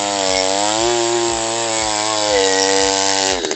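Earth auger post hole digger with a 4-inch bit running in a farm field, a loud, steady buzzing engine drone with a rhythmic low thump as the bit turns, cutting off at the end.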